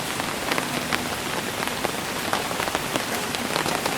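Steady rain falling in the woods, a dense, even patter of drops on leaves and surfaces with scattered nearer drips, continuous and moderately loud with no voices.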